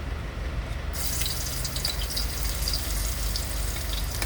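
Pork stir-fried in about two tablespoons of oil in a pan makes a loud, dense, continuous sizzle that suddenly swells brighter as the meat goes in, then holds steady.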